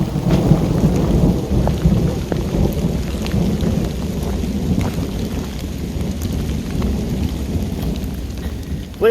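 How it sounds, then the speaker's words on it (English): Thunder rumbles through steady rain during a mountain thunderstorm on a backpacking hike along Virginia's Triple Crown Loop, a loud continuous roll under the pattering downpour with no talk. "Definitely hearing some thunder."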